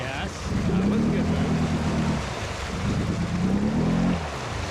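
Off-road machine throttling in mud, two rising engine revs pulling for traction against a constant rushing, churning background, loud and close.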